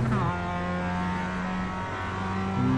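Mazda MX5 race car engine in the iRacing sim at Okayama Short, a sustained buzzing engine note that briefly shifts pitch at the start and holds steady, close and loud throughout.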